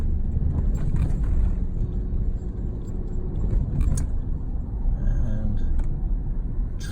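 Heard from inside a car, slow city road traffic gives a continuous low engine and road rumble, with faint scattered clicks and brief sounds over it and no clear speech.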